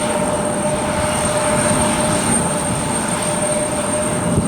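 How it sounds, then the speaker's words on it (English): An Air Canada airliner takes off from runway 24 left at Cleveland Hopkins on a snowy day, its engines giving a loud, steady jet roar with a sustained whine, with no voices heard. "Air Canada 712 heading to Toronto."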